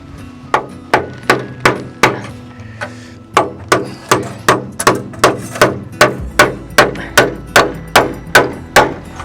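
A hammer strikes bent material to tack it down on a DIY mountain greenhouse, about twenty sharp, close, ringing blows in a steady rhythm, quickening slightly toward the end, with no talk.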